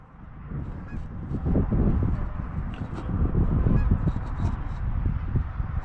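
A large flock of geese honks loudly over a field during a goose hunt, a dense, overlapping chorus of calls from many birds both near and farther off that keeps building throughout.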